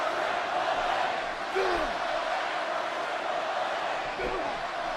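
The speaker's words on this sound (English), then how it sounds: "Rowdy crowd in Toronto." A rowdy wrestling crowd at a WWE Roadblock title match in Toronto fills the arena with a steady roar of noise, with a commentator's voice faintly under it.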